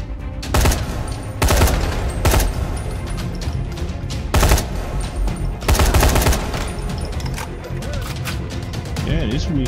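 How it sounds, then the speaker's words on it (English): A weird gun fires in the zombie game Dying Light Enhanced Edition, loud repeated shots in irregular bursts over clattering game noise, with brief pauses between volleys. "Yeah, this weird gun is weak."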